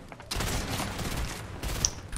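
Rapid bursts of video game gunfire from a cannon-type weapon in a gun game match, loud and continuous with dense overlapping shots and a few sharper spikes, no voices.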